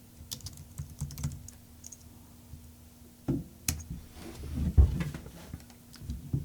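Fingers tap out a location on a computer keyboard, a quiet close run of irregular clicks and keystrokes with a few sharper presses.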